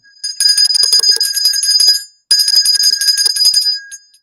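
A bright metallic bell rings rapidly in two loud bursts, each lasting about two seconds, separated by a short gap, with a clear sustained shimmer.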